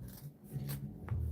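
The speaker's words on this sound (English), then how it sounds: "Why am I cutting with the paper scissors?" Paper scissors snip through fabric in a few short, close scraping cuts, quiet with no talking.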